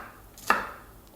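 A single sharp knife chop through hard smoked fish on a board, one close, crisp strike in a quiet setting.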